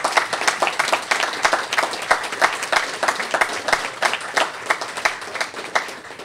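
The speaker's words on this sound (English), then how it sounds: "A round of applause to all the teachers, please." An audience applauds teachers at the Sophie Kerr Prize ceremony, a literary award event, with steady, dense clapping from a crowd in a hall that continues throughout.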